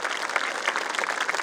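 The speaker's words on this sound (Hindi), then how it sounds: "They all deserve a huge round of applause." Dense, continuous audience applause fills a school annual day event, with many hands clapping steadily and evenly throughout.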